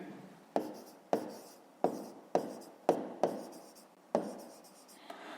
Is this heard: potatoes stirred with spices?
no